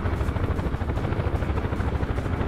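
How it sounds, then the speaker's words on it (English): A UH-1 Huey helicopter in a VR flight game, flying fast, gives a loud, steady rotor thump over a deep engine drone, heard alone. "I don't think we can do 130 without ripping the helicopter apart"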